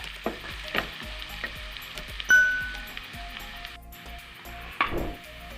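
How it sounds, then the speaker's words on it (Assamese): Spice masala fries in a pan for a masala egg fry, a soft, steady sizzle with scattered stirring taps and a couple of sharp metallic clinks, no talk. "এগ ফ্ৰাইৰ বাবে লোৱা মছলাখিনি দিয়া হৈ গৈছে। এইখিনি মই ভালদৰে ভাজি ল'ম।"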